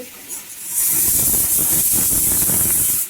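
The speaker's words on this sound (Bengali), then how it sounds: "ডালের সিটি পড়ে গেছে" A loud, steady hiss of steam rushing out of a pressure cooker cooking dal as its whistle goes off, starting abruptly and holding for a couple of seconds, close by with no voices.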